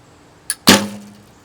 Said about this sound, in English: just the sound of the bow is, well, what I'm used to